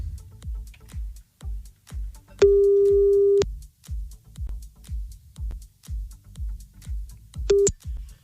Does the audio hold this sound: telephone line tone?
yes